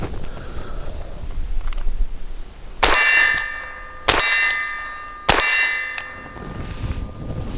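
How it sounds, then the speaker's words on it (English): A rifle fitted with a faux suppressor fires at steel targets, giving three sharp, loud metallic clangs a second or so apart, each ringing out with a long shimmering decay over a low background hum. "The cycling of the action and ringing of the steel was louder than the actual bullet."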